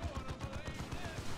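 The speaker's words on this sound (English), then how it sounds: "Too much las cannon fire from these bloody stormtroopers." Rapid lascannon fire from stormtroopers in a Warhammer-style video game battle, a dense continuous rattle of repeated shots and explosions filling the clip at steady loudness, with faint voices mixed underneath.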